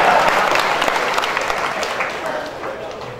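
Applause rises from the audience at a Mumbai mushaira poetry recital, a loud burst of many hands clapping that gradually thins and fades over several seconds, with crowd murmur underneath.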